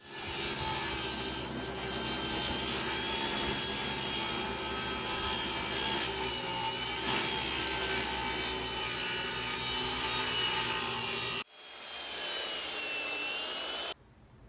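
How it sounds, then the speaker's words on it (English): A power saw rips 2x lumber lengthwise into studs for a shed build, a loud steady whine with a rough cutting rasp running for about eleven seconds, then it cuts out briefly before the motor spins up again. "we're ripping our own 2x"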